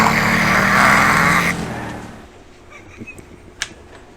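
A race car roars loudly past in a racing video game at Kingston Raceway, then fades quickly, leaving faint scattered clicks and a low hum.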